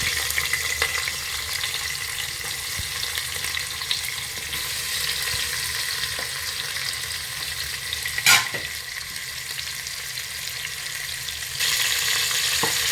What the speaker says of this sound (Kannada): ಈರುಳ್ಳಿ ಚೆನ್ನಾಗಿ ಗೋಲ್ಡನ್ ಬ್ರೌನ್ ಆಗಬೇಕು.